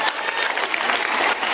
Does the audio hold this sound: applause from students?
yes